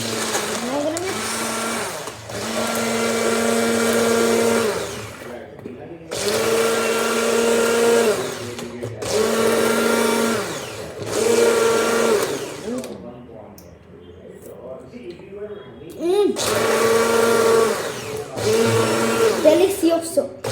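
A blender whirs while mixing an Oreo shake, running in several loud bursts of a few seconds each, separated by short pauses, with its pitch shifting as the contents churn.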